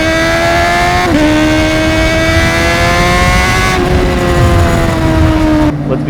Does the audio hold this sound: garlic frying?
no